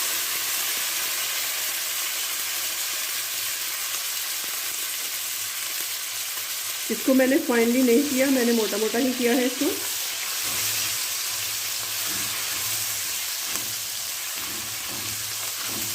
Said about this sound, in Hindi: ये देखिए इस तरह से इसको सौते करते हैं